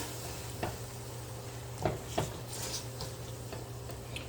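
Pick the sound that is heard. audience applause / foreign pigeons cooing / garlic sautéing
garlic sautéing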